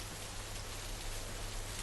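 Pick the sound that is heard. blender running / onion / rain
rain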